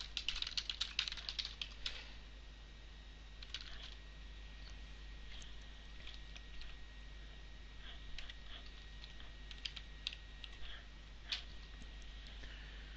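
Someone types on a computer keyboard while naming an upload. A quick burst of key clicks comes first, then sparse, faint keystrokes over a low steady hum.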